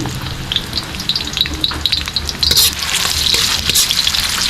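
Onions fry in a pan with a crackling, popping sizzle that grows denser midway, close and steady, under brief stirring scrapes and no voices.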